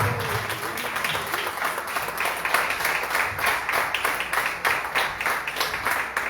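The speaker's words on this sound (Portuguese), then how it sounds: "E você que acredita, aplauda, glorifique ao Senhor." A church congregation claps together during a worship service, a dense roomful of rhythmic applause, fairly steady and moderately loud, with a faint voice underneath.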